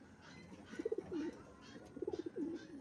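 Breeder pigeons perched above a trapdoor coo softly in two short bursts of rolling, throaty calls, separated by a brief pause.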